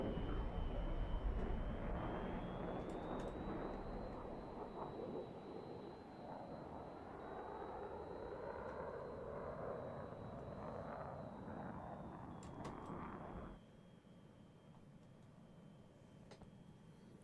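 A jet fighter in Roblox pitching hard into a Cobra manoeuvre and bleeding off airspeed, its steady engine roar shifting in pitch and then dropping off abruptly, with no talk over it.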